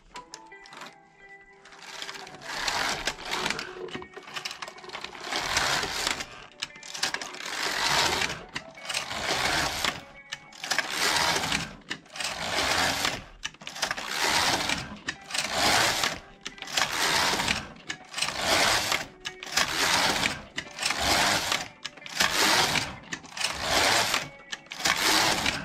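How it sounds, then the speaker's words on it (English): A Passap E6000 knitting machine works rows of circular stockinette stitch, its carriage sweeping back and forth in a steady series of loud whooshing, rattling passes, each followed by a short pause, with no talking. "now we are going to do 18 rows of circular stockinette stitch"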